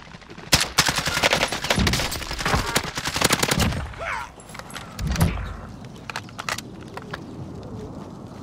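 Rapid automatic gunfire bursts in the Call of Duty: Modern Warfare video game, a dense rattling volley up close followed by scattered single shots, impacts and clanks, with faint in-game movement underneath.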